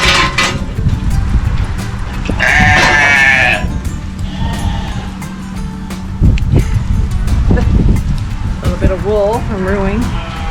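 Sheep bleat on a farm in cold weather, with a couple of loud, wavering bleats close by over steady background noise, and people can be heard talking.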